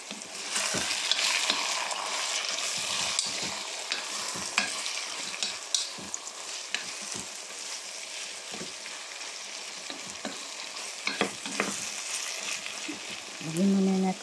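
Ground pork giniling sizzles steadily while frying in a pan, stirred with repeated utensil scrapes and clacks throughout, a brighter sizzle burst near the end.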